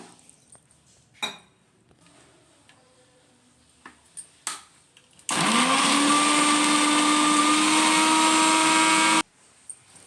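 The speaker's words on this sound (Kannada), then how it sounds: "ಈಗ ಅದಕ್ಕೆ ಸ್ವಲ್ಪ ನೀರನ್ನ ಹಾಕಿ ಗ್ರೈಂಡ್ ಮಾಡೋಣ" A mixer grinder whirs loudly for about four seconds, blending raw mango, mint, ginger and pepper with water. The motor starts abruptly after a few light kitchen clicks and knocks, then cuts off sharply.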